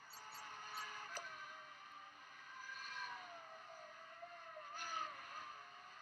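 A Formula Renault 3.5 race car pulls out of its first pit stop at a Dubai race, its engine a steady high whine that rises and sweeps in pitch as it accelerates, heard at moderate distance with no voices.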